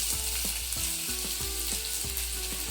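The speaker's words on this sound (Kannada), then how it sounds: "ಫ್ರೈ ಮಾಡೋಣ. ಬೆಳ್ಳುಳ್ಳಿ ಶುಂಠಿ ಫಸ್ಟು ನೋಡಿನ ತಣ್ಣೂರಿನೆಲ್ಲ ಎತ್ಕೊಳ್ಳಿ" Garlic and ginger frying in a spoonful of oil for soya chilli, a steady nearby sizzle cut by regular spatula scrapes and taps roughly twice a second.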